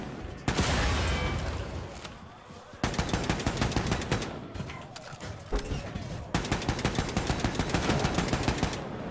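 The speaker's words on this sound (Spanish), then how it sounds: "Ese es el super disparo" Loud bursts of rapid automatic gunfire from a super shot in the video game Wolfenstein II: The New Colossus, several sustained volleys separated by brief pauses, with a heavy boom at the start of the first burst.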